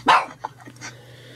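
One close, sharp dog bark, followed by a few softer yips and whimpers over a low steady hum.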